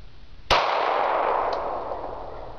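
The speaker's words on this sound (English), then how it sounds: "Shooting a gun." A single sharp handgun shot fired at a range, a loud abrupt crack followed by a ringing, slowly fading tail and a faint second clink a second later, with no talking.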